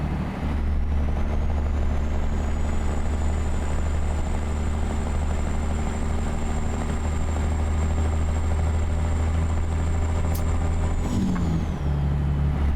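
Ruda 378 truck engine in American Truck Simulator, a steady loud low drone held throughout with a faint high whine above, shifting briefly near the end.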